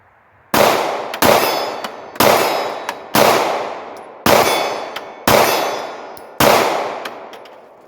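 Seven pistol shots from a Glock 43 ring off steel targets at 30 yards, each a sharp crack with a bright metallic clang, spaced roughly a second apart and fading quickly.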